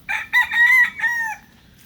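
A big shake rooster crows once, close and loud, a clear multi-part cock-a-doodle-doo lasting under two seconds with no other sound.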